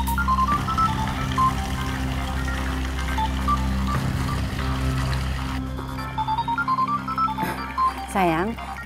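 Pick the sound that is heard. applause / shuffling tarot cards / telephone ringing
telephone ringing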